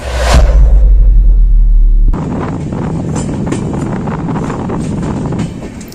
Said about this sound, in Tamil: இதுதான் சுபைதார்கஞ்சிலேருந்து டேராடூன் வரைக்கும் ஹரித்வார் வழியாக போகக்கூடிய ட்ரெயின்